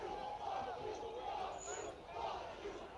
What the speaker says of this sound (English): Fuck you is what the crowd's yelling.